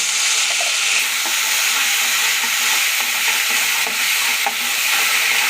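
Onion, tomato and cashew paste frying with tempered spices in a pan, a steady close sizzle with soft stirring scrapes throughout, no voices.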